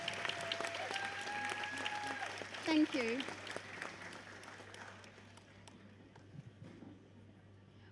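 An audience claps at the Australian National Jigsaw Puzzle Competition. The applause is moderately loud at first, then thins and fades, while a voice speaks briefly over it.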